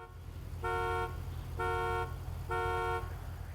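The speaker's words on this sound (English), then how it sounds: "When ducking in third person, the game will correctly move you back so that you can honk the horn." Car horn in the video game GTA 5 honking three times in a steady rhythm, each blast about half a second long and loud, over a low engine rumble.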